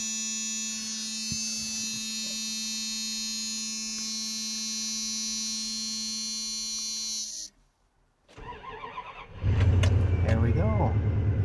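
A vehicle engine left sitting through cold, damp weather cranks after a long electrical whine, goes briefly quiet, then catches and runs with a loud, steady rumble.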